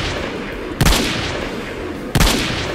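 Sniper rifle shots in the video game Garry's Mod, two loud, sharp reports about a second and a half apart over a steady background hiss.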